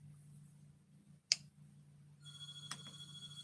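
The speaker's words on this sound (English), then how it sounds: "Oh, there goes the phone." A telephone begins ringing indoors partway through, a steady electronic tone that follows a sharp click, all over a low constant hum.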